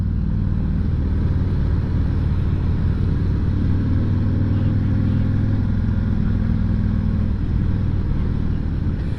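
A motorcycle engine runs steadily at close range on a ride, a continuous low rumbling drone that holds even throughout.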